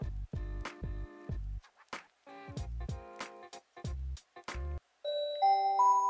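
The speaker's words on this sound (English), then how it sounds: "School bell." A cartoonish school bell alarm from a homework-themed smart-speaker timer chimes in a quick series of bright ringing strikes, followed by a short rising electronic melody, clear and alone.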